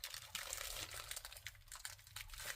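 A small plastic pouch crinkles steadily up close, a dense rustling with sharp crackles throughout, no voices over it.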